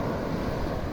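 Sea waves wash up on a beach in a brief, continuous rush of surf, a broad and fairly loud roar with a little wind.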